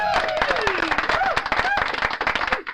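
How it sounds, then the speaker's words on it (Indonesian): Students clap for a presenting group during an online computer-engineering teaching-practice class: a short burst of uneven, sharp claps, with voices and gliding vocal sounds heard over them. "Tepuk tangan buat kelompok 2"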